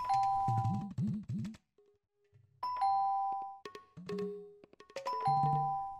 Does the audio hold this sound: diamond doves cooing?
no